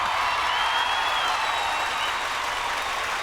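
Steady, dense applause from a studio audience for the judges walking on stage at a televised comedy show, loud and continuous with crowd noise throughout and no clear talk.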